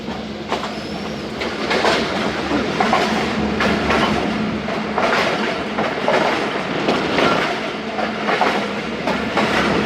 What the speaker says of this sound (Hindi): ट्रेन पास हो रही है दोस्तों